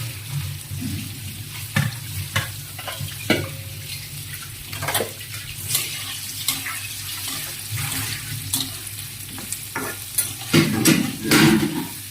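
Potatoes and onions fry in a pan while being stirred, making a moderate sizzle broken by scraping and clattering from the spoon, close by and with no talking.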